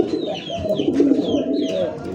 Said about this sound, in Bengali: তো বাগবাকুম ডাকটা দেখেন